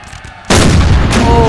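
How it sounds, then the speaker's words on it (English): A cannon fires in Napoleon Total War during the 1812 Battle of Maloyaroslavets, one sudden loud boom half a second in that rolls on as a sustained rumble, with faint battle noise before it. "Look how close this gun is. It needs to fire!"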